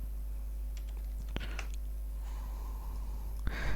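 Scattered keystrokes on a computer keyboard while working in an Excel spreadsheet, a few light clicks with a sharper tap midway and another near the end, over a constant low hum, no talking.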